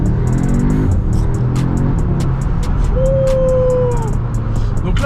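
A 2021 Audi S3 Sedan with a dual-clutch S-Tronic gearbox downshifts and pulls away, its engine note rising in pitch as it accelerates, heard from inside the cabin over a steady road rumble.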